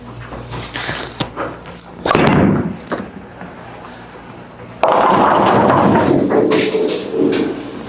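An Ethos Solid bowling ball rolling down the lane and striking the pins: a heavy thud, a stretch of rolling rumble, then a sudden loud crash of scattering pins that clatter on for several seconds.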